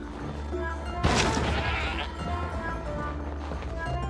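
A goat bleats in the fantasy platform game Trine 4: The Nightmare Prince, a loud burst of strained animal cries over a steady bed of game music and ambience, after which the music carries on.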